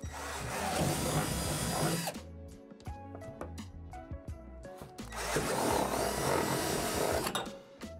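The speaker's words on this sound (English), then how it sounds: "The three holes you need to drill out are the three inner holes." A power drill bores out holes in a plastic play-tower barrier, two sustained whirring bursts separated by a pause filled with clicks and knocks of handling.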